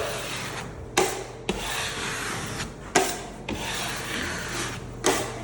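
A drywall knife wipes joint compound down a wall in long scraping strokes, each pass a broad rasping smear with a sharp onset as the blade meets the surface, repeating steadily about every second or two, close and fairly loud.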